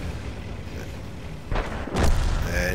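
Tank cannon fire in World of Tanks, with two heavy booming shots about half a second apart, the second louder and fuller, rising over a constant rumbling engine and battle bed while a voice commentates.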